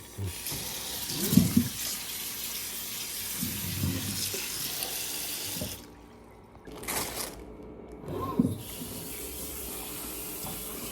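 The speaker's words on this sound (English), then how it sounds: "Rinse a little bit." Tap water runs steadily into a sink, with hands rinsing ramen ingredients under the stream; the flow briefly stops, then resumes, close by.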